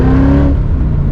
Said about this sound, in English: you hear that V8 roaring